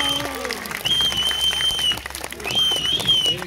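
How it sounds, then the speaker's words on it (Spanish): Applause from a comedy show audience rolls on in waves, with scattered voices calling out over the clapping and a high, thin whistling tone sounding on and off. "¡Fuerte el aplauso para el chimuelo!"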